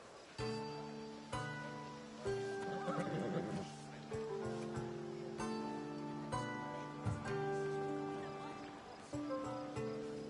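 A horse neighs and whinnies repeatedly in Assassin's Creed Odyssey over steady sustained tones, loud and close, with occasional hoof clops and no talking.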